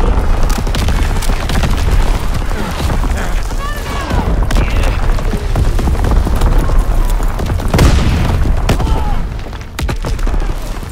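Artillery battery fire in the Call of Duty WWII video game: heavy booms and rolling blasts come one after another under a dense battle din, with voices talking through it.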